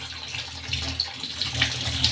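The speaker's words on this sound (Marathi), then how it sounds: "आता अजून धुवून घेऊ आपण एक दोन पाण्याने" Tap water runs steadily into a vessel while sliced potatoes for chips are rinsed, a continuous close splashing hiss with no talk.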